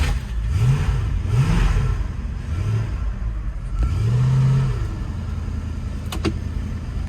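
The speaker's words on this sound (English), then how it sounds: "So, car starting." A 1974 Jensen Interceptor Mk 3 engine turns over and revs a few times, close and loud, the blips rising and falling before settling toward a steady idle.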